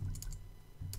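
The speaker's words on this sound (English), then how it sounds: "I don't think I'm typing this in right." A few quick keystrokes on a computer keyboard while code is entered in Xcode, a short cluster of soft taps near the start and another at the end, with quiet pauses between.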